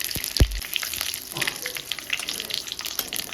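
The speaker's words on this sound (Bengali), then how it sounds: "এখন আমি সর্ষের তেল দিয়ে দেব। দিচ্ছি 5 ফোড়ন, তেজপাতা" Panch phoron and bay leaf hitting hot mustard oil in a kadai, a soft crackling sizzle with a sharp pop near the start, close and steady, without talk.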